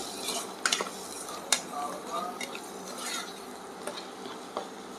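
A leafy vegetable is sautéed with turmeric and salt in a pan, with a few utensil clinks and scrapes against the metal over a light sizzle, close by and moderately quiet.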